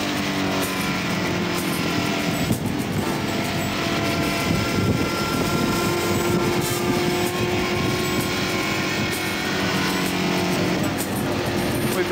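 A Tru Blu MkII race car runs flat out at about 240 km/h, its engine a loud, steady, unbroken roar for the whole stretch.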